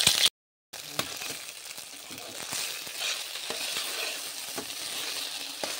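Onion and green chili added to frying cauliflower, a continuous hiss and sizzle in the pan after a short dropout, with light scattered clicks of stirring and no voices.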